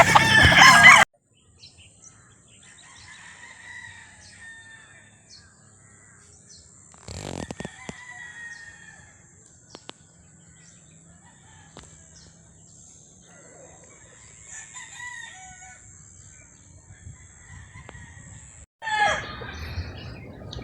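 Roosters crowing at a gamefowl farm in Batangas: several distant crows rise and overlap over a quiet yard with a steady high tone, framed by brief louder bursts of noise at the start and end.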